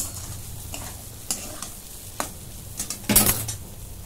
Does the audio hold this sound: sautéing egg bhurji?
yes